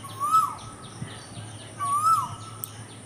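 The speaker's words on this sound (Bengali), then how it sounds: "এই যে কোকিলটা ডাকছে।" An Asian koel calls twice from the trees, each note a clear rising-and-falling whistle about a second and a half apart, moderately distant over a quiet hum.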